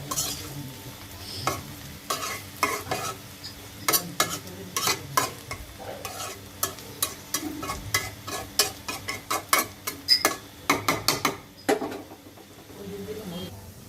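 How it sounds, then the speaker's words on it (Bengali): A spatula scrapes and stirs food in a sizzling pan in a rhythmic series of close, sharp strokes over a continuous frying hiss. The strokes come faster toward the end, and a voice can be heard faintly at times. "আস্তে আস্তে নেড়ে চেড়াই একদম কালারটা চেঞ্জ হয়ে আসছে একদম ভাজা ভাজা করে ফেলবো"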